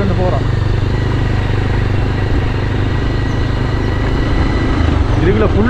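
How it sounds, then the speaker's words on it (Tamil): A motorcycle ridden along a rural track near a crocodile pond in Oddusuddan, its engine a steady low drone running continuously and fairly loud throughout, with faint wind and background noise. "இப்போ நாங்கள் பைக் ஓடிக்கொண்டு போகிறோம்."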